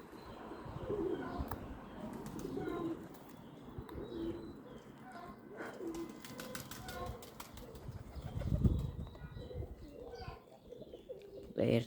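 Pigeons coo steadily while being fed, with low, rolling calls repeating throughout, a few brief chirps and wing flaps, and a louder burst of cooing near the end, all at close range.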